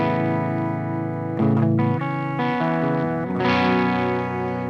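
An electric guitar on its bridge pickup with a Fortin Fourteen pedal switched off, played as sustained chords that ring and change several times, slightly driven and alone without talk.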